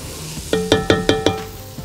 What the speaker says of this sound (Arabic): ندي تقليبه كمان.